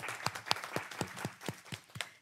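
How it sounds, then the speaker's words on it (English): Scattered hand claps from a small group at a city council meeting, irregular and moderately close, rising into a brief burst of applause lasting about two seconds with no talking over it. "Let's give him a round of applause."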